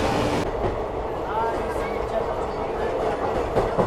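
A passenger train on the Sri Ganganagar Express route near Sahibabad runs steadily on its rails, with a continuous loud rumble and faint wheel clatter close by, and a brief squeal rising over the noise.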